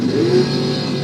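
Door cars accelerate hard in a drag race toward the finish line, a loud, steady engine roar that holds for about a second, close and dense, with no talking.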